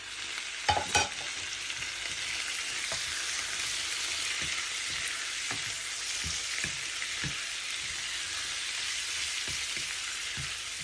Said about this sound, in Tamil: இந்த உருளைக்கிழங்கோட நான் இப்போ எடுத்து வச்சுருக்கேன் இந்த இறாலையும் சேர்த்து நல்லா வதந்து விடுவேன்